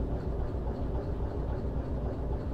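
Freight train in Derail Valley still rolling under braking, a steady low rumble of wheels and running gear with faint rhythmic clatter, continuous and fairly loud.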